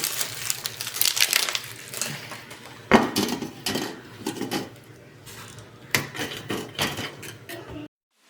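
Half a block of cheese shredded by hand on a grater in a home kitchen, bursts of scraping strokes mixed with clunks and knocks of utensils, close and irregular, ending abruptly.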